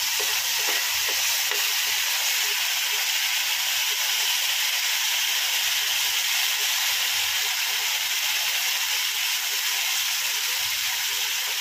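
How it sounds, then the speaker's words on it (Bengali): Onions frying with turmeric powder in a pan of hot oil, a loud continuous hiss and sizzle holding steady throughout with no talking. "এটা আমি ভালো করে ভেজে নেব।"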